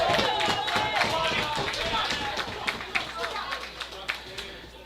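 Crowd at an independent wrestling lumberjack match cheering and clapping in a busy, sustained roar, with sharp thuds and slaps from the ring cutting through.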